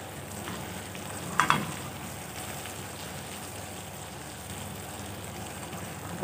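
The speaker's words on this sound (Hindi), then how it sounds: "ये हरी मिर्चें इनको अच्छी तरह से मिक्स कर लें।" Pav bhaji masala and green chillies are mixed into a bhindi masala in a pan, giving a low, steady frying hiss. A brief clatter of stirring sounds near the start, and no one talks.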